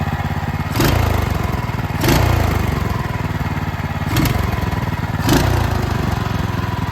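A motorcycle engine being broken in after a rebuild, idling with a rough, loud rumble and revved hard four times in short bursts that rise and fall back to idle, recorded close with no talking.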